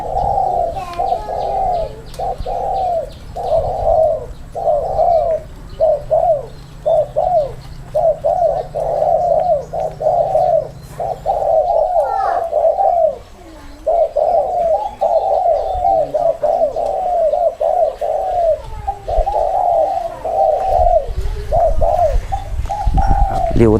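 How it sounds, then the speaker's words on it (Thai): Spotted dove cooing in repeated phrases throughout, the voice thin and not at full strength while the bird is molting; steady, fairly close calls with faint background chirps. "นกเสียงยังไม่เต็มครับพี่น้องครับ เพราะว่านกมันถ่ายขนอยู่ครับ"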